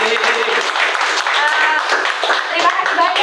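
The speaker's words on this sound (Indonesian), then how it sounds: "Luar biasa, boleh tepuk tangan." Audience applause at a panel talk about improving an industry ecosystem, a steady wash of clapping running throughout with voices mixed in beneath it.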